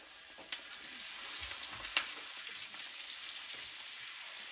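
Mangalitsa coppa steaks fry in hot unsalted butter in a skillet, giving a steady, close sizzle with scattered pops and crackles that run right through the clip.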